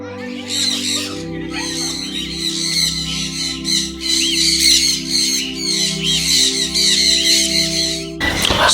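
Birds in an aviary squawk and screech loudly and close in repeated harsh bursts over a low steady hum, with a brief clatter near the end.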